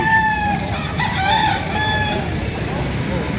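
Roosters crow at the Padre Garcia chicken market, several long drawn-out crows overlapping from different birds, loud and near over a noisy background of clucking and market bustle.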